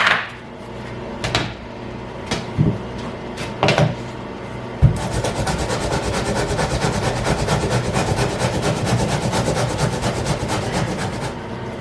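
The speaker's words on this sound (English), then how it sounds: "you have to grate it anyway" Potato chunks being grated by hand, a steady run of rough scraping strokes that starts after a few separate knocks and rubs and continues evenly and close up, with no talking.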